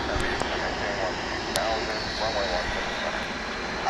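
Delta airliner at DFW International Airport, heard as a steady, loud jet engine roar that fills the whole stretch, with people talking faintly over it.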